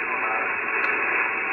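Hiss and static from an HF ham radio receiver pulling in a distant DX station in a ham shack, a steady loud wash of noise with no clear voice.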